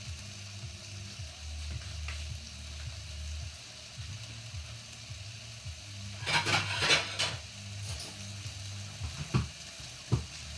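Bacon sizzling and frying in a pan, a steady low crackle with a few sharp clinks of utensils against the pan partway through, close and fairly quiet, no talking.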